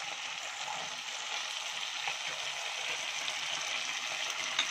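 Onions fry in a pan for chilli egg curry, giving a steady, faint sizzle that stays even throughout with no talk.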